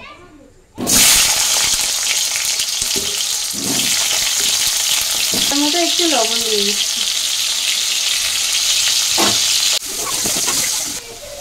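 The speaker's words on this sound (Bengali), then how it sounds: "আমি এবার আলুগুলো ভেজে নেব।" Potatoes fry in smoking-hot mustard oil in a wok, a loud continuous sizzle starting abruptly and running under a woman's speech, with a brief dip and restart near the end.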